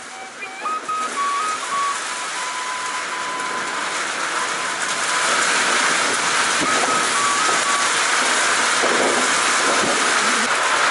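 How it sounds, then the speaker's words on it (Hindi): Dense, steady hiss of heavy monsoon-style rain in Uttarakhand, India, recorded from a house rooftop, pours down loudly throughout, growing slightly fuller partway through, with a faint background tone. "मूसलाधार बारिश इस समय उत्तराखंड में हो रही है।"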